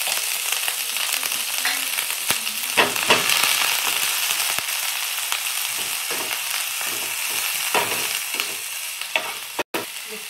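Finely chopped onion, garlic, coriander leaves and green chili sauté in a pan with a bright, steady sizzle, punctuated by scattered stirring scrapes and taps, close by and without speech.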